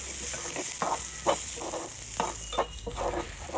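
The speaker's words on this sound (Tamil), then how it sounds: "வெங்காயம் நல்லா வதங்கிட்டு" Onions sauté in oil in a pan for a Jaffna-style brinjal curry, with a steady sizzle under rhythmic spoon scrapes roughly every half second, close and clear with no voices.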